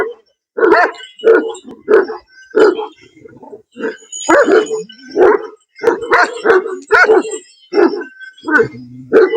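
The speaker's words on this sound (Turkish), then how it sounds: "Köpekler birbirinin sesinden demek birbirlerini çözebiliyorlar" Dogs bark loudly and aggressively at close range in rapid repeated bursts as they attack, with sharp yips and a whimper mixed in.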